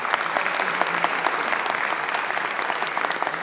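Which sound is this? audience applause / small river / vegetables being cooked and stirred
audience applause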